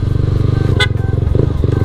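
Several motorcycles pass close by on a busy road, with a steady engine drone and harmonic revving, a brief horn toot in the middle and faint voices in the background.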